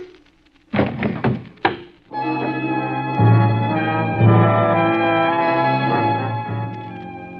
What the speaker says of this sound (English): Gun butts make a funny sound hitting a man's head.